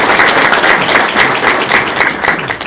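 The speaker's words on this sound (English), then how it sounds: "So please give those leaders a round of applause." An audience applauds the leaders of an organization at a regional outlook event, a steady, dense wash of clapping that holds at full strength for the whole stretch with no voices over it.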